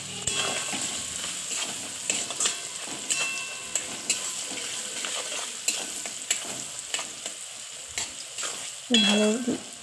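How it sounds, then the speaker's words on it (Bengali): Eggs frying in a pan of oil for egg kalia, a dense steady sizzle close up with intermittent stirring scrapes and a brief louder burst near the end, no voices. "ভালো লাল লাল করে ভেজে নিয়েছি"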